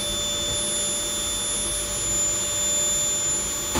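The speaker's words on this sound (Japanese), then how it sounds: "掃除機かな、音って" A household vacuum cleaner runs steadily nearby as someone cleans at home, a continuous droning whine with steady tones that holds unbroken throughout.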